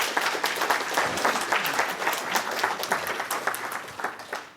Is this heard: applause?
yes